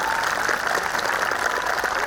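Applause from a school audience for a first-prize winner at a Republic Day cultural program, a steady dense wash of clapping that runs throughout, fairly loud and continuous without talk over it.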